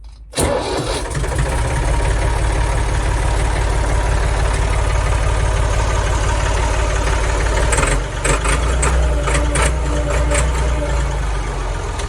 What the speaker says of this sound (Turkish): size bir traktörün kabinin içinde sesini dinletmem lazım